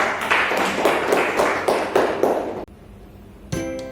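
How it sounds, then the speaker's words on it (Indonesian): Applause from students in a classroom: a burst of many hands clapping for about two and a half seconds with rhythmic accents, then it cuts off abruptly into near quiet, followed by a tonal ring. "Beri aplaus dulu ya"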